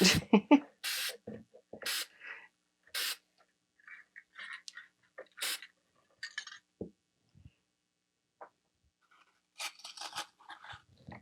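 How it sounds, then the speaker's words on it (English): Several short hissing bursts from an aerosol can of spray paint, separated by pauses with faint handling noises and quiet clicks. "Spray paint."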